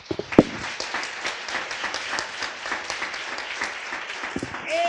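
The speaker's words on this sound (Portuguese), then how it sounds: "Nós podemos dar uma salva de palmas para Jesus" A church congregation claps together in a steady, sustained round of applause, fairly close and even, with a few voices mixed in near the end.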